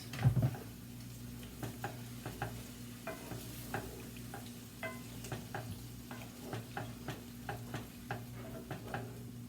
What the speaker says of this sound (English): I'm just going to continue to stir everything until those beef strips are thoroughly cooked through and they're nice and tender.